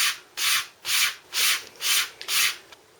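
Six rhythmic rasping strokes of sandpaper rubbing across a foam motorcycle seat, each about a third of a second, steady and close with short pauses between.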